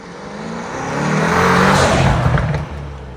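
A Mercedes-AMG GT63 accelerates hard, with its engine note swelling into a loud, sustained roar that peaks and then eases off near the end, close and with no talking.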